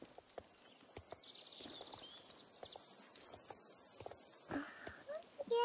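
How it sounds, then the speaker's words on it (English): Hoofbeats of a horse in a horse-riding video game, a steady clip-clop rhythm under game sounds with occasional chirps, and a person talking over it. "My horse is going crazy."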